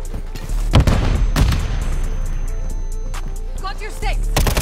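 A grenade blast in Modern Warfare 3 gameplay bursts out amid a rapid string of loud gunfire and booms, with a shouted voice breaking in over the dense firefight.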